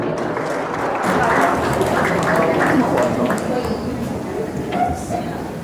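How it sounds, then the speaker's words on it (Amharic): Applause from an audience at a TV station's anniversary celebration, honoring religious fathers as they go to the stage; steady, dense clapping carries through the whole stretch, with a voice speaking faintly over it. "የሃይማኖት አባቶችን ወደ መድረክ በታላቅ ጭብጨባ እንድትሸኙልን በአክብሮት እንገልጻለን።"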